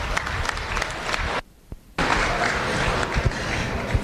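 Applause from a crowd at a youth fair steer show honoring a Hereford steer class, dense clapping that cuts out briefly for about half a second in the middle, then resumes just as strong.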